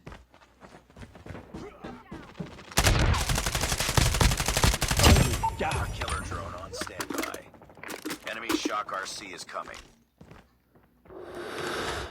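Rapid bursts of Holger 26 light machine gun fire in Call of Duty Mobile crackle loudly, starting abruptly and fading in and out, with voices speaking between volleys.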